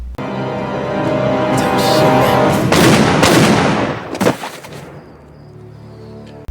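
Gunfire from a scene in the action film Kill Ratio: a loud sustained roar of shots and blasts that builds, peaks with sharp cracks, then fades into quieter rumbling.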